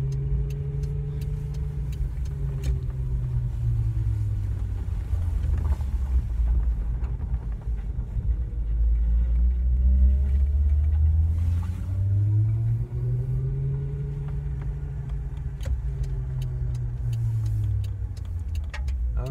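An electric Suzuki Sidekick's motor whine rises and falls as it slows on regenerative braking and swings through a U-turn on a side road, the pitch sweeping smoothly over a low road rumble with no talking.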